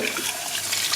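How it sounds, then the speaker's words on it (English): Cold tap water gushes steadily over noodles in a sink, a loud continuous splashing rush close by. "We're gonna rinse the noodles with cold water."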